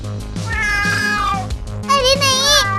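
A cat meows loudly and repeatedly at close range, several drawn-out cries in a row, in a playful street scene where it has just grabbed a fish.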